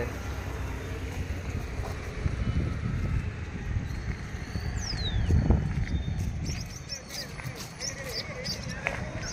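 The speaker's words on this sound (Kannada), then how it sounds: "ಸ್ಪೀಡ್ ನೋಡ್ರಿ, ಬರೇ ಸ್ಪೀಡು ನೀರಿಂದು" Fast, swollen floodwater of the Bhadra river at Bhadravathi gives a broad, steady rushing roar with wind buffeting the microphone, and people talk over it nearby.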